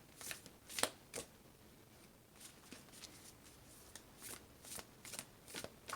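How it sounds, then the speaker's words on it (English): Quiet, close riffling bursts of a tarot or oracle card deck being shuffled, several short crisp flutters spaced irregularly with soft handling noise between. "I think I shuffled this full deck once."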